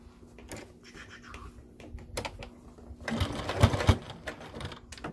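A sewing machine stitches a rectangle of fabric for a face mask, running in short bursts with pauses and then a louder, busier stretch of stitching and clatter near the end.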